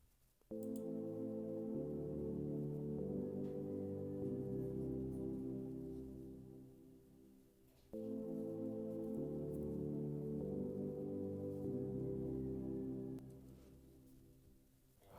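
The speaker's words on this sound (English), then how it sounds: "we have this chord progression that served as background" A background chord progression from a beat remake swells in as two long, sustained chord passages, each held for several seconds before fading, full and warm with no voices over it.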